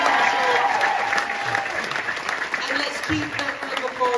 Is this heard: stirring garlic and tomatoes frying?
no